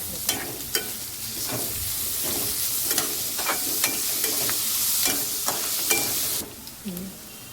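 Garlic, ginger, green chilli and curry leaves sizzle in hot oil for spicy batata vada, a steady loud frying hiss broken by regular sharp taps and scrapes of a stirring spoon, close up, easing off near the end.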